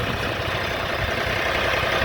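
A Shifeng 244 tractor engine idles steadily with a continuous low, rattling drone and no other sounds.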